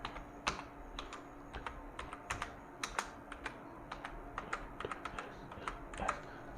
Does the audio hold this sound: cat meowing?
no